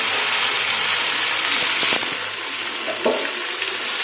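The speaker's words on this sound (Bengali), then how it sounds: "এখন একটু নাড়াচাড়া করতে হবে যতক্ষণ না মশলাটা ভাজা ভাজা হয়" Spices sizzle and fry in a pan for dal makha, a steady broadband crackle with a few soft stirring scrapes and a small clunk near the end, close and moderately loud.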